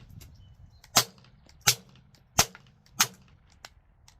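A .22 rifle fitted with a Rebel SOS 22 silencer, all three baffles and end cap installed, fires four suppressed shots at roughly even intervals, each a sharp, short crack close by, with quiet between them.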